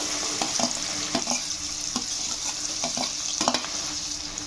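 Capsicum pieces frying in hot oil and ghee, a steady sizzle punctuated by several sharp stirring scrapes close to the pan, no speech.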